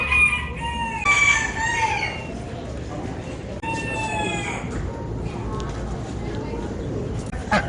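Small roosters and other poultry, including a cochin, crow at a show or fair setting, with a couple of high crows early and another midway over steady crowd noise and nearby talking.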